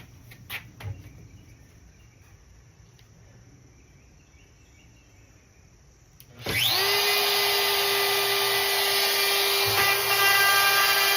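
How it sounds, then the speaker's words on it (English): A high-pitched power router spins up suddenly after a quiet stretch, then whines loudly and steadily as it cuts a countertop for a 2014 Winnebago SunStar 26HE RV. "I'm going to router these around so these will go around the side"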